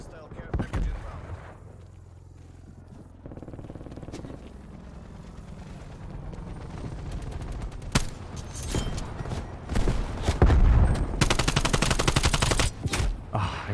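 Video game gunfire rattles in repeated bursts and single shots over a busy battle mix, growing denser and louder toward the end, with a person talking over it at times.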